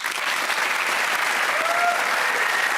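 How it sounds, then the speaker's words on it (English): Steady applause fills a room at the London unveiling of the Lotus Eletre, greeting Lotus Cars managing director Matt Windle, a dense, even clatter of many hands held at constant loudness throughout. "Big round of applause for Matt."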